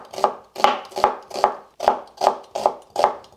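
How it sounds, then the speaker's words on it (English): A knife slices a thumb-sized piece of ginger thinly on a cutting board, giving eight crisp, evenly spaced chops up close with no talk. "have about a thumb-sized piece of ginger that I'm slicing up thinly"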